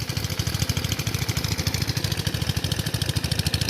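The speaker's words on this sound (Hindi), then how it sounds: "पापा जी इंजन चला रहे हैं" An irrigation pump engine runs in a farm field with a steady, rapid thumping idle. It stays loud and close throughout, with no voices over it.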